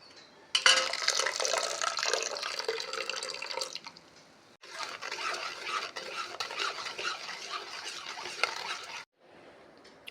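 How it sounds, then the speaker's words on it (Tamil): Flour batter for achu murukku being stirred and beaten by hand with sugar and coconut milk, a steady wet mixing and slapping sound that runs loud, pauses briefly, resumes, then drops off near the end. "சீனியை சேர்த்த பின்பு தேங்காய் பாலையும் விட்டு மாவையும் கொஞ்சம் கொஞ்சமாக தட்டி கலக்க வேண்டும்"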